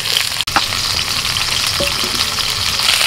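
Pointed gourd and potatoes fry in oil with a loud, dense, continuous sizzle close by, broken by a brief clatter of a utensil moving the pieces around.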